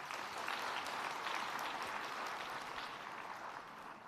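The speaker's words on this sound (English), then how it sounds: "Please, another round of applause." Audience applause at a conference on healthy diets in Africa, a steady dense clapping from a large crowd that holds for about four seconds and eases slightly toward the end, with no talk over it.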